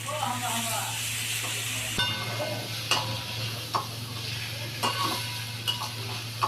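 Water poured into a sizzling pan of cooked-down elephant foot yam (ol), with steady hissing, a sharp burst as it hits, then repeated ladle clicks and scrapes; a voice speaks faintly at times.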